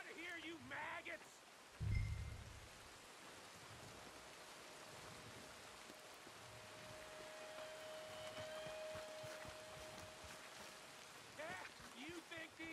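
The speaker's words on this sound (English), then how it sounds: "Sudden rain." Rain hisses steadily throughout in the Red Dead Redemption 2 game, a soft even patter under intermittent voices and a brief low thump near the start.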